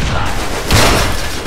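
A loud explosion goes off in the video game Fallout 3, a dense booming burst that swells briefly amid continuous game noise.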